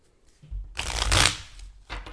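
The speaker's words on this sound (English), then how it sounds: "Shuffle." A deck of cards is riffled and shuffled up close, a quick fluttering burst, then a shorter flick as the cards settle.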